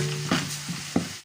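Green chillies added to a hot pan with crushed ginger and garlic for a beef curry, giving a brief close sizzle with a couple of stirring scrapes before it stops abruptly.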